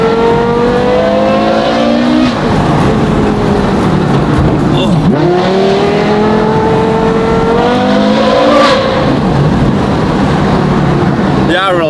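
A Porsche Carrera GT fitted with an Inconel and titanium F1-style exhaust revs loudly and close by, its shrill engine note climbing and falling through several sweeps, with talk heard beneath it.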